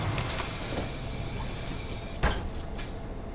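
Bus doors open in Bus Simulator 18 over a steady engine drone, with soft whooshes and a sharper mechanical thump partway through.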